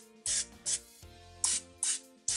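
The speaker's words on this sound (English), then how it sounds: "spray them down with cooking oil" Several short hissing bursts of olive oil cooking spray coated onto plantain pieces before air frying, close and loud, in quick uneven pairs separated by brief quiet gaps with faint background hum.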